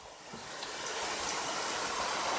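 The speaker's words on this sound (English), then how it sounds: "Here's a waterfall I was telling you about." A waterfall in Island Park pours with a steady, broad rushing hiss that holds evenly and close.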